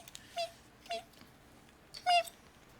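A person imitates a cat, making three short, soft trilling and meowing sounds spaced across a quiet background, the last one the loudest.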